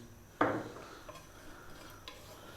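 Cumin seeds drop into hot oil in a small frying pan with one sharp sizzling hit that fades, followed by a few faint crackles and ticks.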